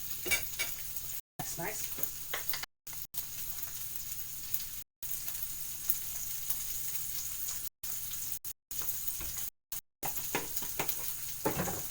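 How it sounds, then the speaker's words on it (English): Meat sizzles steadily in a frying pan as it is stirred and turned over, with continuous frying crackle broken by several brief cuts and a short spoken remark. "just gotta make sure that meat turns around in the pan."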